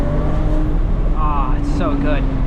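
A manual 2008 BMW 335i tuned to about 500 horsepower accelerates on a mountain road, a steady loud engine drone with rising whine heard from inside the car, while someone talks over it.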